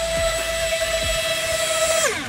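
A homemade hydroplane's 70mm electric ducted fan running below half throttle gives a steady, piercing high whine that holds level for about two seconds, then drops in pitch as it spools down.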